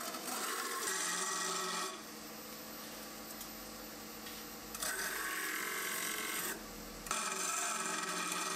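Hardwood dowels being turned to 16 mm on a lathe give a steady rasping, scraping hum that rises and falls in loudness as the tool bites and eases off, with the motor droning underneath and no voices.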